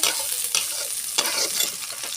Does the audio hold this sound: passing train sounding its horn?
no